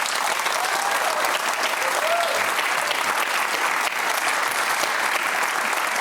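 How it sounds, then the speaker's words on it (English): A studio audience at a televised panel discussion breaks into steady, loud, continuous applause, dense and even throughout. "that applause tells us something"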